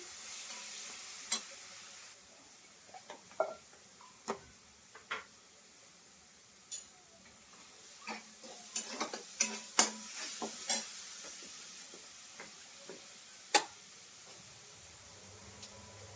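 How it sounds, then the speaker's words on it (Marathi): Garlic and coconut roasting in a pan over a low gas flame, giving a quiet steady sizzle broken by sharp stirring scrapes and light crackles. "गॅसची फ्लेम थोडीशी कमी करते आणि लसूण खोबरं छान असं भाजून घ्यायचंय"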